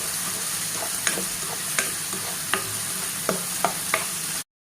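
Vegetables sizzle steadily in hot coconut oil while a utensil scrapes and stirs the pan every second or so.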